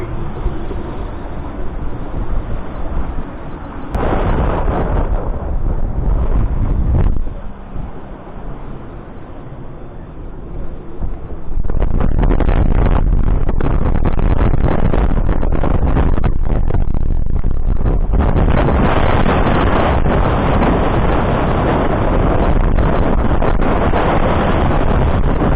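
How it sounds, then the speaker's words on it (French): Strong wind of about 35 knots roars during a rough sailboat crossing toward Saint-Denis d'Oléron, with loud sustained gusts buffeting the microphone, easing briefly before surging again to a steady, heavy rush. "il y a le vent qui est en train de retomber gentiment"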